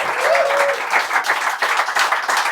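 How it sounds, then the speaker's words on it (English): Attendees at a live meetup with journalists and a politician break into a round of applause, a dense near clapping that carries steadily throughout, with a brief voice over its opening. "Give yourselves another round of applause for being here."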